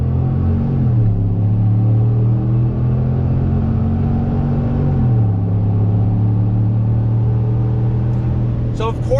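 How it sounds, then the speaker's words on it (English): A 2019 Chevy Silverado Badlander pickup with a naturally aspirated engine accelerating on throttle, a loud steady engine drone heard from inside the cab that climbs in pitch, settles, then rises again as it shifts. "let's do a little acceleration test on throttle"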